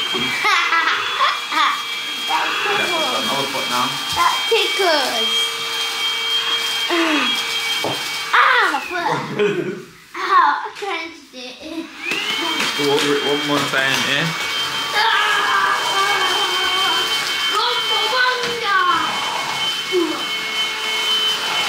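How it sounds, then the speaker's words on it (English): A vacuum cleaner hoovers a floor indoors with a steady whine, running close and continuously as people talk and a child giggles over it, briefly dropping out midway before resuming. "so we're literally hoovering up. We're hoovering up the floor now."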